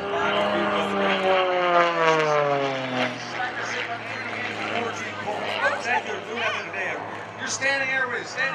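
A propeller aerobatic aircraft performs at the 2013 New Garden Airshow, its engine drone rising and falling in pitch as it maneuvers overhead, heard continuously beneath a public-address announcer talking throughout.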